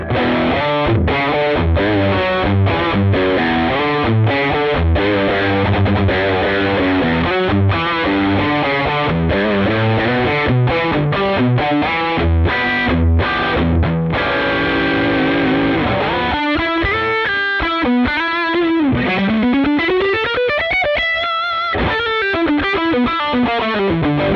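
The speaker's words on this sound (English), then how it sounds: "So those are kind of your super high gain tones" A Mesa Boogie Mark Series amp at high gain: heavily distorted electric guitar plays loud, saturated riffs with chugging chords, then shifts to sustained bends and squealing lead notes.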